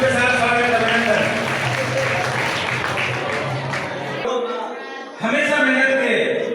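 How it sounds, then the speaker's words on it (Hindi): A crowd claps to welcome guests at a Chero tribal community event, with broad continuous applause and talk over it, a brief dip, then a renewed loud burst near the end. "चलिए तालियों के साथ स्वागत अभिनंदन।"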